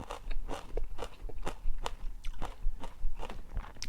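Close, crisp crunching and chewing of a spicy Thai rice noodle salad with shrimp, clams and beans, with steady bites and moist mouth sounds repeating in quick succession, no talking.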